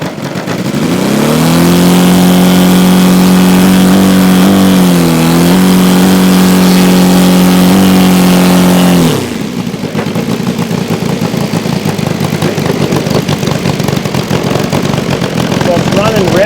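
A radial engine on a giant RC T-28 Trojan model plane runs loud and steady with a deep droning hum that dips briefly, then cuts to a rougher, running-rich idle at close range.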